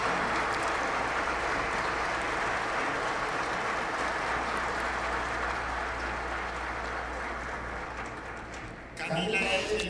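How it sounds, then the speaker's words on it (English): An audience at a mining convention closing ceremony in Peru claps steadily in a large hall for nearly ten seconds, a dense sustained applause that fades slightly before someone starts speaking at the end. "Please, big round of applause for her."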